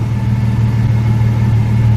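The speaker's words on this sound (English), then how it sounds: "The idle's right where it's supposed to be." A Toyota Supra MKIV engine idling at a steady, even low hum, close and constant with no revving.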